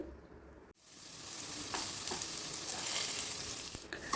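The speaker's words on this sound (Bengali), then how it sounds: "আলুটা আমি ঢেকে ঢেকে ভেজে নেব" Potato pieces fry in oil in a covered pan, giving a steady close sizzle with soft stirring scrapes; a sharp clatter cuts in near the start, then the frying noise swells and holds.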